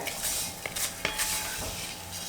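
A spoon scrapes and clinks against a pan while roasted vermicelli is scooped into a bowl for semiya payasam, a few soft metallic taps over a faint background hiss.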